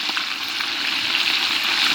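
Fish frying in a pan, a continuous soft sizzle and crackle of hot oil, close and even throughout.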